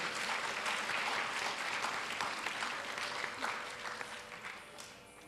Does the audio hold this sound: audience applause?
yes